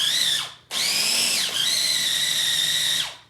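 A kitchen appliance with its lid on grinds and chops garlic, a loud high-pitched motor whine in three bursts that dips in pitch as it stops, close up with no talking.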